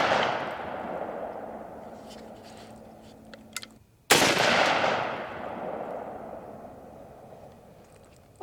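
A 45-70 Government rifle firing subsonic loads outdoors, two loud close shots several seconds apart, each a sharp crack followed by a long fading rumble.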